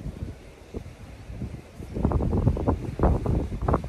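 Strong gusty wind on an island beach buffets the microphone in low rumbling bursts that grow stronger and more turbulent toward the end.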